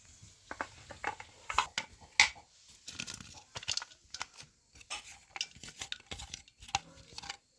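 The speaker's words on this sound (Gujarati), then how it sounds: "તો જો બધી ડુંગળીને આપણે આવું કટિંગ કરી નાખશું." Onions are cut with a knife in a home kitchen, making close, irregular knocks and taps against the board with short pauses between runs, and no one speaks.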